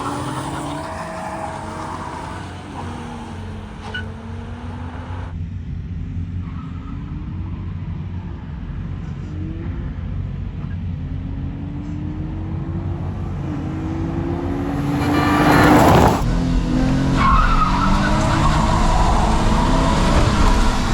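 Nissan Altima race car engine at a race event with about eighty Altimas, the car prone to stalling: a steady close rumble with wavering, shifting tones and a louder surge near the end, no talk.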